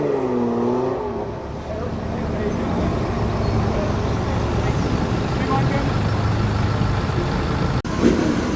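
Low, steady rumble of a classic V12 car with a manual gearbox running at an evening classic car meet, close and continuous, with people talking over it.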